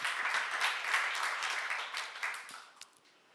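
A congregation at a Jesus Centered Church seminar gives a brisk round of hand clapping, strong at first, then thinning and fading out over about three seconds.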